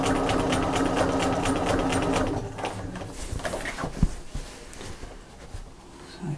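A sewing machine stitching a quilted shopper bag, running in a fast steady whir for about two seconds, then slowing into short uneven bursts of stitching with a few knocks.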